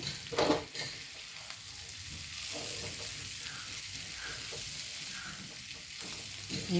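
Egg masala fries in hot coconut oil in a pan, a continuous close sizzle with crackling spatters and occasional louder pops, plus some stirring.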